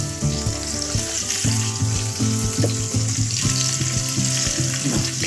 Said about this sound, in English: Oil in the pan. Let's just brown the short rib.